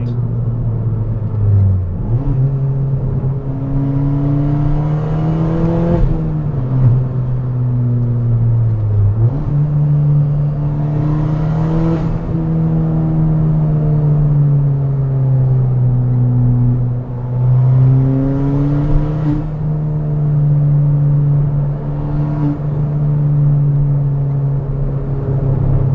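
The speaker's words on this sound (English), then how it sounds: "If you just on the overrun dab the throttle a little bit, there's a load of burble." Straight-piped Ford Fiesta ST droning loudly from inside the cabin, its deep exhaust burbling and rumbling with rising and falling pitch as the throttle is dabbed on overrun, swelling at several points over a steady low roar.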